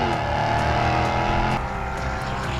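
Car accelerating, heard from inside the cabin as a steady, loud engine drone with a slight shift partway through, continuous and close, with no talking.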